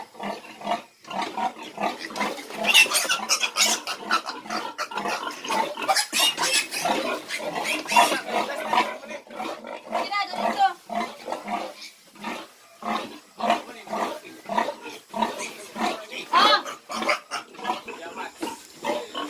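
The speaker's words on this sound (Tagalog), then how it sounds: "So ito po yung sila mga kababoy" Piglets in a pen grunt and squeal almost continuously, a dense, close chorus of overlapping snorts with no pause.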